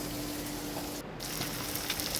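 Sliced onion with pepper powder sautéing in a pan, a steady soft sizzle with faint crackles and a brief dropout partway through, close and continuous with no voices.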